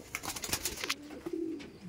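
Baby Red Madrasi pigeons coo close by, a short throaty call rising after a burst of rustling and clattering in the loft.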